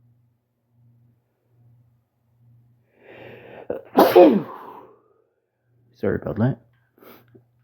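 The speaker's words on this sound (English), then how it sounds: "trying not to sneeze" A single loud, close human sneeze bursts out after a quiet intake of breath, followed by a short spoken apology.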